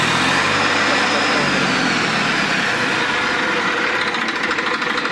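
Massey Ferguson 1035 DI tractor, a 42 HP three-cylinder 2500 cc diesel, revving hard, a loud rough clattering roar held close up for several seconds with no clear speech.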